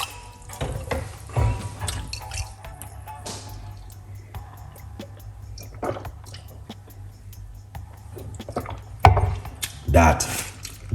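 Tap water runs into a blender jar being rinsed after making a cucumber drink, a steady splashing wash with louder sloshing bursts near the end, set against a low kitchen hum.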